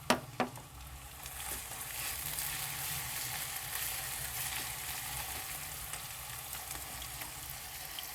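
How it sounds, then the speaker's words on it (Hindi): Onions with garlic-ginger paste fry in a pan, a steady close sizzle and crackle that runs throughout after a couple of sharp clinks at the start, with no voices. "प्याज डाल देंगे, हल्का सा फ्राई करेंगे।"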